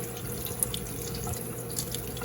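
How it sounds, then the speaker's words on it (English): Cool tap water running lightly into a sink while washing Gotland wool, a steady soft splashing trickle with faint drips, no talk. "I have the water running lightly."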